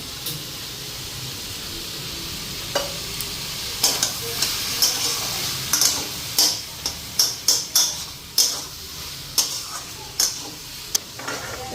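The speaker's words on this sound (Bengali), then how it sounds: "এদিকে মশলাও ভাজা হয়ে গেছে" Spices fry in a pan with a steady low sizzle, broken by a run of sharp spatula clacks against the metal as they are stirred, close and clear without speech.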